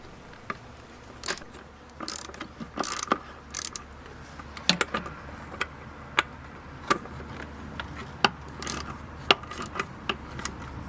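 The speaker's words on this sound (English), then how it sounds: "Unscrew EGR bolts." A ratchet wrench clicks in short, irregular bursts while loosening the EGR valve bolts on a GM LQ1 engine, with close, sharp metallic ratcheting and quiet gaps between turns.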